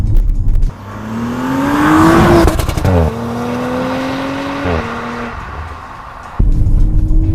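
An Audi RS5 accelerates hard from inside the cabin, its engine note climbing steadily through the gears with brief dips at each shift, loud and continuous with no talk.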